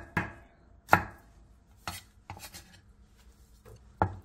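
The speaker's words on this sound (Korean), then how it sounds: "파프리카 2분의 1개도 버섯과 비슷한 두께로 채 썰어주세요" A knife julienning bell pepper and king oyster mushroom on a cutting board, heard as a handful of sharp, separate chops spaced irregularly, close and clear with no voices.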